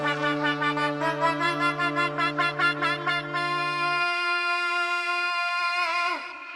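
A brassy, war horn-like tone from a film theme, built from a mixed and effected rough track, sounds loud and sustained, with a pulsing low drone under rhythmic upper swells for about four seconds, then a steady held chord that fades out.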